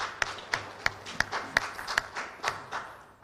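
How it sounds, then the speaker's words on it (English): Sparse, distinct hand claps at a youth gathering greeting the President of Nigeria, about eight separate claps in a loose, uneven rhythm, fairly quiet and close rather than a full crowd roar. "So please, a round of applause for Mr."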